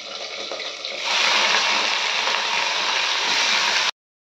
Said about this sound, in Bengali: জল নিগড়ে এই যে জল নিগড়েছি